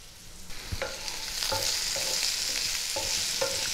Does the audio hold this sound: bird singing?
no